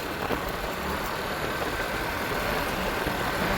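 A truck engine rumbles past on a road in the Konkan region near Ratnagiri, a steady droning roar with broadband noise that stays close and even throughout, heard while riding a bike.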